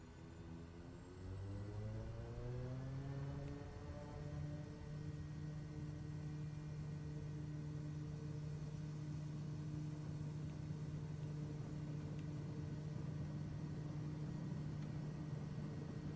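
Steady drone of a Kodiak 100 turboprop engine in Microsoft Flight Simulator 2024, rising in pitch early on and then holding a constant whine and hum, loud and continuous with no talk.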